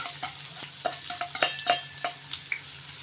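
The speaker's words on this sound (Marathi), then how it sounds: "कांदा तेलामध्ये चांगला सॉफ्ट करून घ्यायचा" Finely chopped onion frying in hot oil with a spoonful of cumin seeds, a close, soft sizzle broken by quick spoon scrapes and light clicks against the pan, with no talking.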